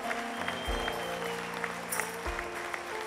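Applause rises at a São Brás festival night for the festival committee, a steady wash of clapping from a crowd heard at moderate distance with some low thumps.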